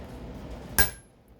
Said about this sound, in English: hard and with power generated straight up and down with a heavy hammer to put in your mark